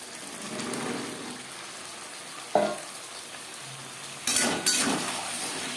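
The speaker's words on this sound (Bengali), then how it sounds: "মশলার সাথে দু তিন মিনিট আলু নাড়াচাড়া করে নেওয়ার পর দিয়ে দেবো টুকরো করে কেটে রাখা পটল" Potatoes fry in spices in a pan with a steady close sizzle, interrupted by a few sharp scraping stirs of a spatula, with no one speaking.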